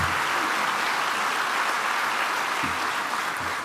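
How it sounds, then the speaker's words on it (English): Steady, dense applause fills a hall at the Brownsville State of the City event, a large audience clapping evenly from start to finish. "And that deserves a great round of applause."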